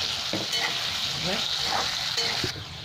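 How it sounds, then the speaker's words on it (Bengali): Ground green peas fry in a pan, a constant close sizzle broken by several scraping stirs of a spatula. "এবার আমি এর মধ্যেই মটরগুলোও ভেজে নেবো"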